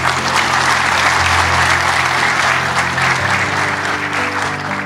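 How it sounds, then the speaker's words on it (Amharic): An audience at a motivational talk gives loud, sustained applause that fills the room evenly, slowly tapering near the end. "አጨብጭቡ ለዚህ"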